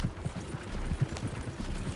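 Horses galloping in Red Dead Redemption 2, hooves pounding in a quick, close, repeating clip-clop rhythm for a couple of seconds with no talking.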